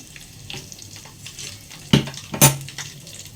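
Garlic and black cumin seeds frying in mustard oil: a low, steady sizzle in a kitchen, broken by two sharp metallic clinks of utensil against pan near the end.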